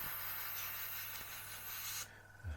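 An airbrush sprays paint onto a masked 1/35 scale Spitfire Mk Vb model, giving a steady close hiss that cuts off abruptly near the end, followed by a brief soft bump.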